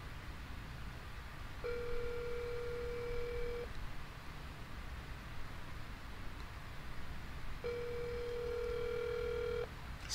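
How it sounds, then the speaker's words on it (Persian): Telephone dial tone during an outgoing call placed through an old calling program: two steady tone bursts about two seconds each, separated by a gap, over a faint background hiss. "صدای این تلفن چجوری میاد توی؟"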